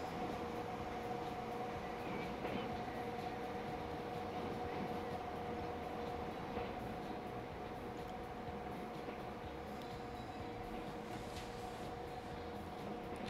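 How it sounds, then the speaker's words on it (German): Electric locomotive running in the game Transport Fever 2, a steady, continuous rumbling drone with a faint tonal whine, even in level throughout. "Wunderbare Lok, ne? Wunderschön."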